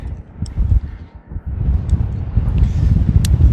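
Blustery wind on remote Yorkshire hills buffets the microphone in low, rumbling gusts that rise and fall, loud and continuous throughout.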